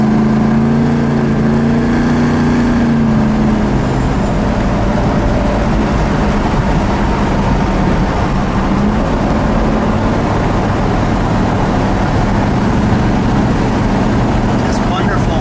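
A blue 1970 Dodge Challenger T/A with a 340 Six Pak V8, heard from inside while driving, gives a loud, steady engine drone that rises and settles as it pulls along.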